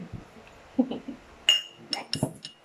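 Clear glasses or glass bottles are set down on a table for a home oxygen experiment, with a few close clinks and knocks scattered among soft handling noises and a faint voice.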